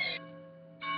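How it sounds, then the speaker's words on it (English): A bell rings with sustained, shimmering harmonic tones that swell, dip briefly, then brighten again, heard alone at moderate volume indoors. "Sorry about that bell."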